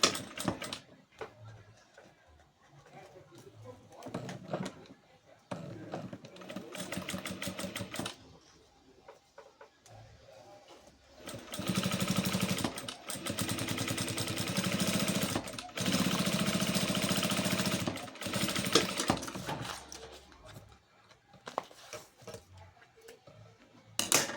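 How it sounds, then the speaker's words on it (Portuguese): A sewing machine runs in long bursts while stitching the finishing edge of a fabric pocket for a hanging hygiene-item holder, its motor whir fairly loud and close, separated by brief pauses. "esse eu só costuro o acabamentinho no próprio bolso"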